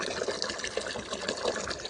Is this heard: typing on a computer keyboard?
no